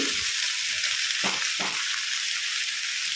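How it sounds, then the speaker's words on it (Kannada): Fish frying in a pan over a low flame, with a steady, dense sizzle throughout and two brief louder bursts near the middle, close up, with no talk. "ಲೋ ಫ್ಲೇಮಲ್ಲೇ ಫ್ರೈ ಆಗಲಿಕ್ಕೆ ಬಿಡಿ"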